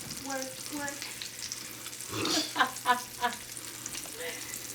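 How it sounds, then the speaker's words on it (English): Fresh-caught mangrove snapper fries in hot oil, a crackling sizzle with a few sharp bursts, under a person's voice at the start. "Listen to that sizzle."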